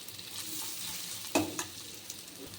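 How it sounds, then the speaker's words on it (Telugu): Radish pieces fry in a pan with a steady, faint sizzle, broken by a few clearer scraping stirs near the middle; no one speaks. "మధ్య మధ్యలో కలుపుకుంటూ ఉండాలి, లేదంటే ముల్లంగి మాడిపోతాయి. ఇంకొంచెంసేపు వేగితే సరిపోతుంది."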